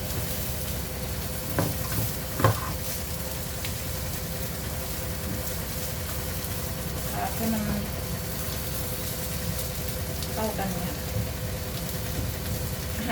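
Rice with Chinese sausage is stir-fried in a rice cooker pot, a low continuous sizzle with occasional scraping stirs and light knocks, fairly close and steady throughout.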